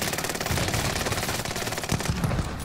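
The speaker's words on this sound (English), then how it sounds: "This LMG is hella good, bro. MG42, bro." An MG42 light machine gun in a shooter game fires long rapid bursts, a loud continuous rattle of closely packed shots with a brief break near the middle.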